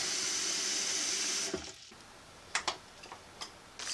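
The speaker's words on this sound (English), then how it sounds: "First thing to do is grab a pot and put in a fair bit of water." Water pours steadily from a tap into a pot for about a second and a half, then stops, followed by a few light clinks and taps of the pot being handled.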